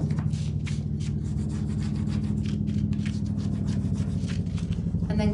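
Burnishing a cut paper edge on a quilt-style paper project, heard as a steady, close rubbing and scraping that runs the whole time with no pauses and no talk.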